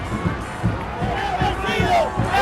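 A large crowd at a Venezuelan military parade with tanks and missile launchers murmurs and cheers in a continuous babble, with scattered louder shouts rising through the mix under a nearby voice.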